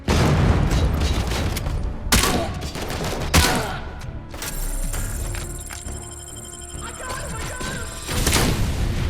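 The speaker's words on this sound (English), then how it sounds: "Cool guys don't look at explosions." Loud bursts of explosions and rapid gunfire in RoboCop: Rogue City, with heavy booms early on, then a sustained high electronic whine before another blast near the end.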